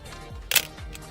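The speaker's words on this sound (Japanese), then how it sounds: "250分の1でシャッター切ってみましょうか" A Pentax SPF film camera's mechanical focal-plane shutter fires once at 1/250 second, giving a single crisp, close mechanical clack with a short ringing tail in an otherwise quiet room.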